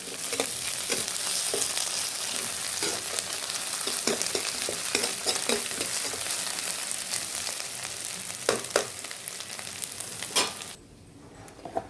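Ginger garlic paste frying with onions in a pan gives a steady, close sizzle with scattered spatula scrapes and pops, dropping suddenly to a quieter hiss near the end.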